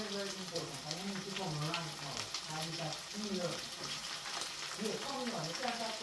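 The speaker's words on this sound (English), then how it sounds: "so we're frying" Chicken back and vegetables fry in a pan with a soft, continuous sizzle and crackle, while someone talks loudly over the cooking the whole time.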